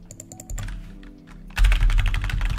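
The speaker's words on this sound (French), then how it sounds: "je pense que si j'écris un long message." Rapid, close typing on a computer keyboard while writing a long chat message, with quick bursts of key clicks that pause briefly and then resume faster and louder.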